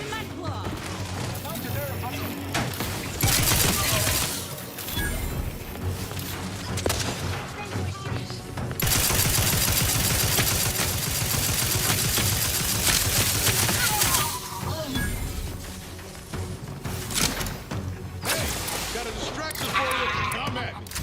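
Gunfire in The Outer Worlds 2, dense bursts of shots and crashing impacts layered over a loud game soundtrack, nearly continuous with brief lulls, with a voice talking over parts of it.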